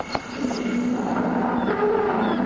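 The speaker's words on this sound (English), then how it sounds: "The elephant alarm is transmitted through the underground speakers." A low, sustained rumbling elephant alarm call with a tonal groan, steady throughout, sounding distant and played back through underground speakers.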